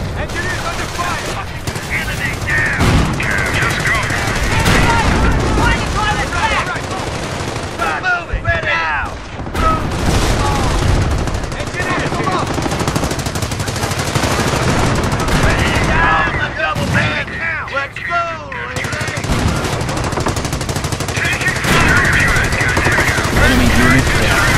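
Battle gunfire in the video game Company of Heroes, with dense machine-gun bursts and scattered shots rattling continuously under in-game unit voice callouts.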